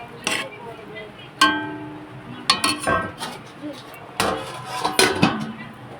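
Masala being stir-fried in a pan with a little water, heard as intermittent metallic clanks and scrapes of a spoon against the pan in short bursts, close by, with a soft sizzle underneath.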